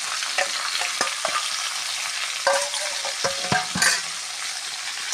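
Mixed vegetables with peas and soybean chunks, seasoned with turmeric and salt, sizzle in a pan, with a steady fry and frequent sharp scrapes and knocks of stirring, close and clear.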